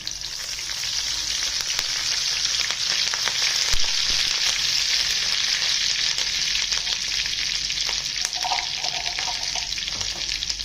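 Curry leaves hit hot oil with mustard seeds and cumin for a soybean chunk curry, giving a loud, steady sizzle and frequent crackling pops throughout.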